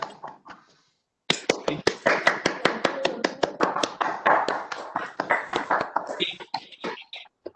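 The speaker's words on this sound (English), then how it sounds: "Be free to unmute yourself and clap once again." Webinar participants clap over their microphones after unmuting, starting with a few scattered taps, then a run of quick, close, overlapping claps from several people that thins out toward the end, with faint voices underneath.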